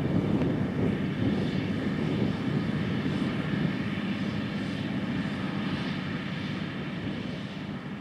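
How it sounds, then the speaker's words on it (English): A Case IH 380 CVT Magnum tractor of 380 engine horsepower pulling a 500T precision air drill, its engine a steady, loud, continuous drone with a broad low rumble that holds level throughout, no talk. "Operating the 500T precision air drill is a 380 engine horsepower Case IH 380 CVT Magnum tractor."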